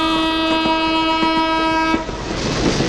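A passing train sounds a long, loud, steady horn over rolling wheel clatter. The horn cuts off near the end, leaving the broad rush and rumble of the carriages going by close up.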